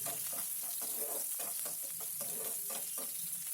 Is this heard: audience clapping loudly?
no